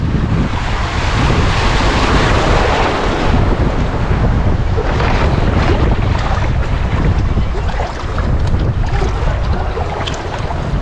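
Loud, continuous sea waves and wind rush around a small boat, with churning water and gusts buffeting the microphone throughout.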